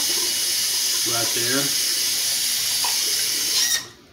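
Tap water runs steadily into a sink while a cup is rinsed under it, a broad hiss that continues under a brief spoken phrase and cuts off abruptly near the end.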